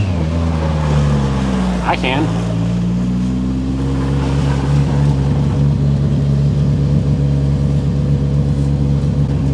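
A car engine revving hard while being driven on snow, a loud steady drone that climbs as the throttle opens, with brief talk over it.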